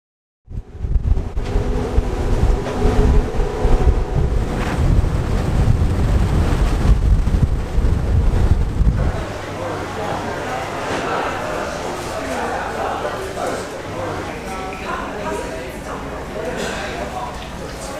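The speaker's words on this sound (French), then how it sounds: "On démarre cette journée en prenant notre premier ferry du road trip." Strong wind buffets the microphone aboard a ferry crossing in Norway, loud and gusty at first, then easing into a steadier rush with a low engine drone and water noise beneath.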